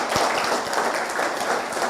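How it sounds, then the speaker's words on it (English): Crowd applause at an event fills the clip, a dense wash of many hands clapping at moderate loudness, with no clear rhythmic pattern standing out. "Can we give them a locomotive applause?"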